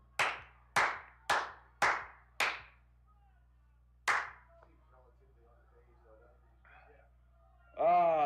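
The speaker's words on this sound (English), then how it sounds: "See if I can get a good clap. We got a loud roof for an echo." Sharp hand claps ring out under a loud, echoing roof: five quick claps in a row, then a pause and one more, each trailing a short reverberant tail, followed by a brief voice at the end.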